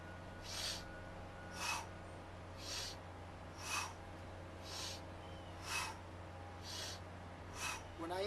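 Slow, deep breathing during an exercise routine, with seven evenly spaced breathy hisses about a second apart over a faint steady hum, close and fairly quiet.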